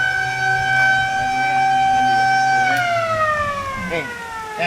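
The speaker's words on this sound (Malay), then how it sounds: "Kalau hujan, dia bunyikan siren." A riverside warning siren at a river swimming spot, sounded when it rains, wails loud and steady, then its pitch slides downward near the end, with faint background noise beneath.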